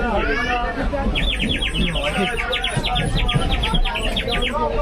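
A warbling water-whistle toy trills in rapid, bubbly bursts, repeating steadily for several seconds while a person talks alongside.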